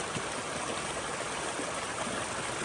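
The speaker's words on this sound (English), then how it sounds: "Brook still coming." A mountain brook flows beside a hiking trail up a slide, a continuous full rushing and splashing of water, close and steady throughout with no voices.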